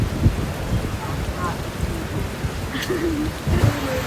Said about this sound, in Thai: ฝนตกละลอกสี่แล้วค่ะ และครั้งนี้ก็ตกหนักมากด้วย